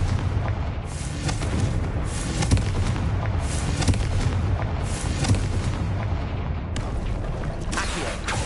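A Confringo blasting spell in the video game Hogwarts Legacy, a loud, dense run of overlapping booms and crackling bursts that continues without pause for several seconds, heard close and alone.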